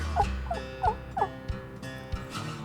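A handheld turkey call, probably a hunting call, makes a short series of clucks and soft yelps that imitate a wild turkey. The notes come in an even, rhythmic run of about eight calls, close and clear, with no talking.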